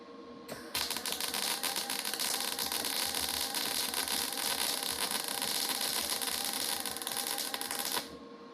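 MIG welder laying a bead at a low 16 volts, a steady, dense crackling buzz that runs unbroken for about seven seconds at moderate level before cutting off.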